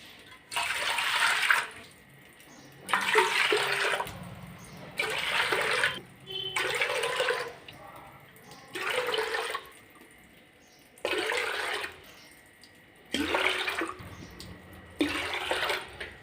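Nine cups of water are poured one after another into a large pot. Each pour is a close, splashing gush of a second or two, separated by brief pauses.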